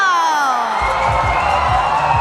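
A sepak takraw crowd at a women's regu World Cup match welcomes the Indian team with loud, continuous cheering and whooping, shouts rising over a sustained announcer-like voice.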